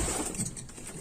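Pigeons in a breeding loft give a soft, low coo close by, with a brief rustle, heard alone with no talking.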